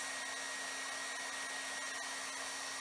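A hair dryer blowing steadily on crayons to melt them, a constant close whooshing roar with no breaks.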